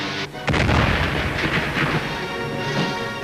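A heat ray blast erupts in a vintage American pulp sci-fi serial, a loud booming explosion that hits suddenly after a brief lull and rumbles on as a dense, sustained roar through the rest of the moment.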